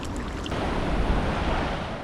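Ocean surf washes against rocks at a coastal spray point, a continuous broad roar of breaking water mixed with gusty wind, moderately loud with no voices.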